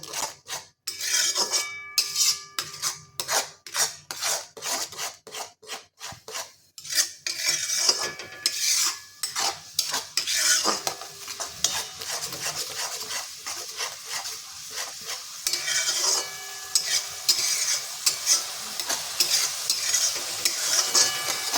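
Vegetables for pav bhaji sautéing in a pan, stirred with a metal spoon that clatters and scrapes rhythmically against the pan over a continuous close sizzle, with dense quick strokes early on and steadier frying later, no voices.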